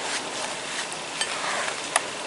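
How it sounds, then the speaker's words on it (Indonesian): A fishless siomay filling seasoned with broth powder and ground pepper is stirred steadily in a bowl. It makes a continuous soft, wet, gritty swish with a few faint clicks and no voices. "Aduk ya, supaya rata."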